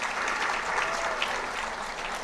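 An audience at the CII South India media and entertainment summit applauds actor Dhanush, a steady wash of many hands clapping at a moderate distance with no pause.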